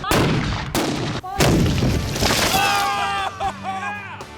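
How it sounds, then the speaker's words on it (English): A leather parrot-gun cannon, a reconstruction of an ancient weapon, fires with loud booming blasts. An opening bang is followed by further heavy reports and a long rolling roar, and faint shouts and cheers sound near the end. "That is what we'll be firing in our parrot gun"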